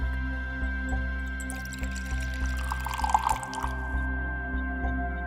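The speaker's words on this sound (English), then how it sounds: "A babbling brook of fresh brewed coffee pouring into your favorite mug." Freshly brewed coffee pouring into a mug, a soft trickling and dripping stream that swells briefly near the middle, sitting over a steady low electrical hum.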